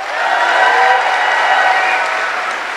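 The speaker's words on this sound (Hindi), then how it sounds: "मैं चाहूंगी इससे ज्यादा जोर से ताली बजा सकते हैं आप मेरे मेंटर के लिए" An audience applauding at a business success event, dense sustained clapping from a crowd that swells and holds steady, loud and close, without speech.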